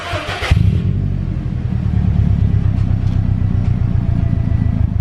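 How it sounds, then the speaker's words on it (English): Subaru WRX with an Invidia N1 catback exhaust starting up cold, a brief crank then a loud, steady deep rumble that settles into an even idle close by. "the exhaust is now installed, and here is the startup."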